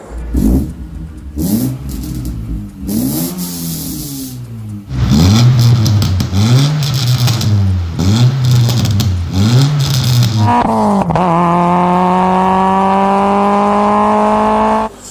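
A Peugeot 106 engine revs repeatedly in rhythmic surges with a throaty exhaust, then holds a long steady high rev before cutting off; loud and close.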